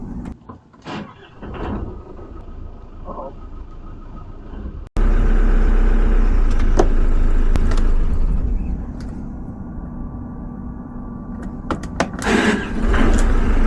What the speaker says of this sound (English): Starter's going.